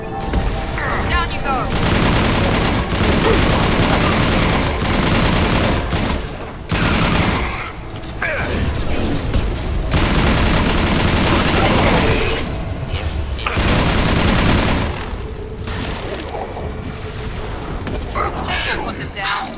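Weapons fire in Mass Effect 2 Legendary Edition, loud bursts and booming volleys that come and go in waves across the clip, with short lulls between them and voices talking over the combat.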